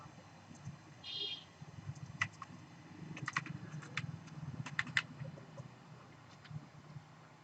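Python code is typed on a computer keyboard: quiet, scattered key clicks come in short bursts with gaps, over a low steady room hum.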